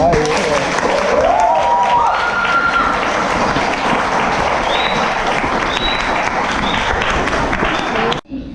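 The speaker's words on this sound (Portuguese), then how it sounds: "Palmas, então." An audience at a mock jury trial event applauds loudly and continuously, with dense clapping and some voices and cheers mixed in, before it cuts off abruptly near the end.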